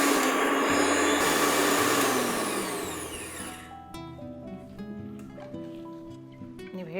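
A mixer grinder whirs loudly as it grinds soaked rice and sago, a strong motor roar that winds down over several seconds into lower rattling and fading hum.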